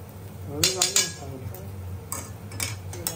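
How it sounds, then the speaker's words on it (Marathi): Paneer is being mixed into a spiced tempering in a pan, giving a few clinks and scrapes of a utensil against metal over a low background hum. "मस्त आपण मिक्स करूया पनीरची फोडणीला."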